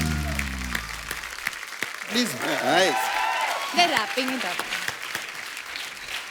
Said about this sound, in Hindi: एक बार आरआरआर की पूरी टीम के लिए जोरदार तालियां।